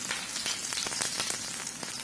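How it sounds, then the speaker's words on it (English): A homemade veggie burger patty fries in a little oil in a pan over low to medium heat, giving a steady close crackling sizzle with scattered sharper pops and no talk. "in a pan with a bit of oil, we're going to take our patty and lay it down"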